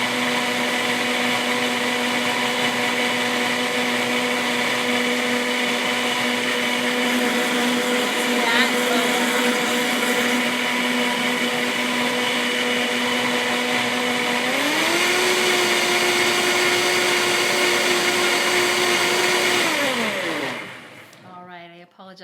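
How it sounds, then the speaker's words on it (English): A blender whirs steadily while blending a warm apple pie à la mode smoothie, a loud continuous motor drone that shifts pitch partway through before spinning down at the end; a voice speaks briefly over it. "Apologize for the noise that that blender makes, but this new blender is actually not as noisy as my old one."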